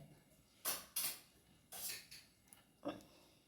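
A spoon stirs milk payasam with ada in a cooking pot, giving several scraping clinks against the metal, a few sharp and close with pauses between them, no voices.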